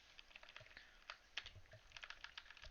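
Code typed on a computer keyboard for an Angular web app, a quiet run of quick, uneven key clicks with brief pauses and a few sharper strikes, close by and with no talk.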